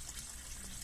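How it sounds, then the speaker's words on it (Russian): Water gushes hard from a garden hose whose clamp has broken loose, a steady, close rushing spray with no pauses and no talking over it. "Представляете, сорвало хомут и льет."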